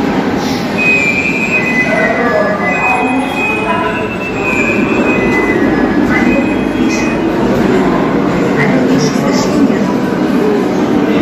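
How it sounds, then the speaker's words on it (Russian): An electric commuter train runs steadily in Moscow, a loud continuous rolling roar with high wheel squeals and hum, close by and unbroken for the whole stretch. "Электричка."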